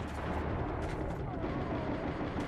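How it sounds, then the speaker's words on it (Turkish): Dense, continuous rumble of distant gunfire and explosions from a firefight in Metro 2033 Redux, a muffled, steady roar filling the whole stretch with no clear separate shots. "Abi çatışma sesleri geliyor."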